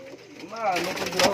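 A short, low pouter pigeon coo rises and rolls close by, with faint background voices.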